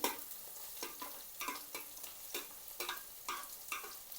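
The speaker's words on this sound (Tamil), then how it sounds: "இதையும் சேர்த்து ஒரு தடவை வதக்கி விட்டு கொள்ளுவோம்" Chopped garlic sautéed in a pan for a capsicum curry with dried fish, a soft background sizzle punctuated by regular scraping stirs roughly every half second.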